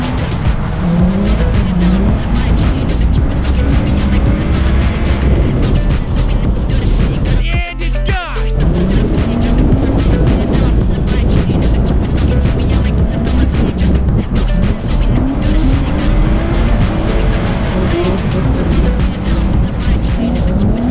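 Cars tandem drifting together on a frozen ice lake, engines revving hard and continuously with tire squeal and skidding throughout, loud and close, with a brief rumbling thump near the middle.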